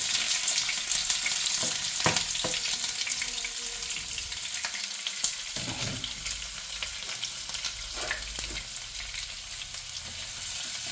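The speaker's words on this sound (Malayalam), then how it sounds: "ഇതിൻ്റെ പച്ചമണമൊക്കെ ഒന്ന് പോയി കിട്ടോളം ഒന്ന് ഇളക്കി കൊടുക്കണം" Curry leaves, ginger, green chili and garlic fry in oil for beef pickle, a dense, even sizzle close by with occasional stirring scrapes, no voices.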